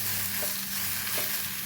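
Grated raw mango frying in oil for mango pulihora, a loud, dense, close sizzle holding steady with two faint stirring scrapes.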